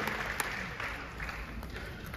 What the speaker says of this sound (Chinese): 给自己本身一个掌声